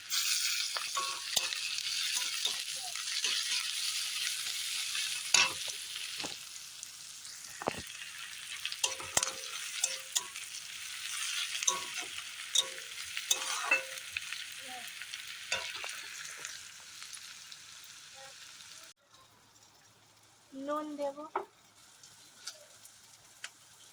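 Chopped tomato frying in a hot pan, a steady close sizzle broken by sharp clinks and scrapes of stirring, with the hiss dropping away near the end while a few faint bird chirps come through.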